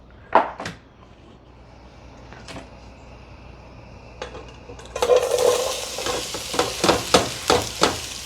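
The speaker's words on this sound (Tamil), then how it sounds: "நான் வெட்டி வச்ச வெங்காயம் பச்சை மிளகாய் உள்ளி அதையும் ஆட் பண்ண போகிறேன்." Chopped onion, green chilli and garlic go into a pan for a chickpea curry. A few sharp clanks come first, then a loud burst of sizzling with repeated rhythmic stirring scrapes.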